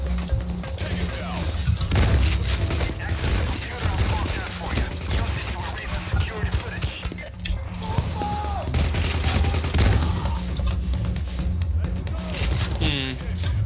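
Rapid, continuous gunfire from Payday: The Heist rattles through a chaotic firefight, bursts and single shots overlapping with crashes and impacts, while players talk and shout over the din.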